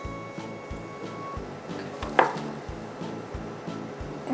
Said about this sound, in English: Let's cut off some cilantro.